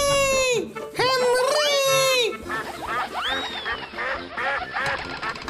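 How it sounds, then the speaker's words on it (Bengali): A duck quacks loudly and repeatedly up close, mixed with high squeaky calls and busy background sound. "আরে, এটা তো একটা হাঁস।"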